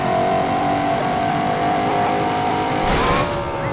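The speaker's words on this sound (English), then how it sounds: "Engine's warming up because I removed the radiator." A Ford Mustang in the BeamNG.Drive driving game, its engine overheating with the radiator removed, roars loud and steady at high revs with a rising whine near the end.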